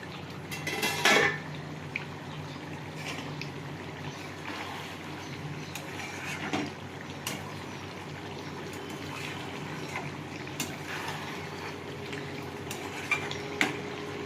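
A lid clanks onto a cooking pot of spicy stingray fish jhal with one loud metallic knock early on, followed by a faint simmering background and occasional soft clinks.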